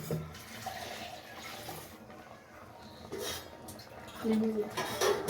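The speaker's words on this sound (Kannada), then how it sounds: "ಸ್ವಲ್ಪ ನೀರು ಸೇರಿಸ್ತಾ ಇದ್ದೀನಿ ಅದೇ ಜಾರಿಗೆ" Water is poured into a mixer jar while making a chicken sambar, with light clinks of kitchenware. The pouring comes in short, uneven bursts, close and moderately loud, and a voice speaks faintly alongside.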